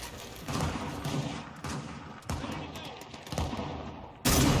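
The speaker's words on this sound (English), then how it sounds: "Great suppressing fire coming through from the cog" Suppressing gunfire in a Gears of War match, heard as dense, repeated bursts of rapid shots with brief gaps between volleys and a loud final burst.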